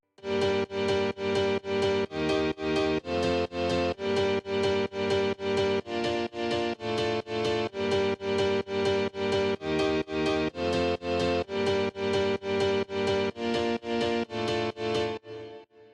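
Two grand piano layers combined in a progressive house chord pattern, with a bright classical piano stacked over a second piano, playing steady repeated chord stabs at loud, even volume for about fifteen seconds with no talking.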